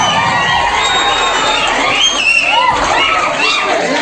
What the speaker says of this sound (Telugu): విద్యార్థులందరూ వచ్చే చప్పట్లతో కార్యక్రమానికి ఆహ్వానం పలకాలని కోరుతున్నాం